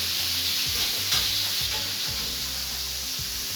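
Pork chops fry in a pan with a steady, close sizzle and a few soft stirring or shifting sounds underneath, continuous and without any voice.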